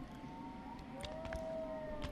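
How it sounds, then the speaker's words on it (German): Wolves howling in the foggy outdoors of the horror game Outlast: Whistleblower, long faint wavering tones drawn out over a quiet ambience with a few soft clicks. "Man hört die Wölfe heulen."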